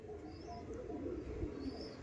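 Andhra pigeons, a red-headed pair among others, coo softly in low, rounded murmurs, with faint chirps above and a quiet room-like background, no speech.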